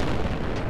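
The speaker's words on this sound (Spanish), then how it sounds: "Apuesto a que va a haber una explosión." A spaceship crash explosion in a space-travel video game lets out a dense, roaring blast, loud and broad, filling the short moment without voices.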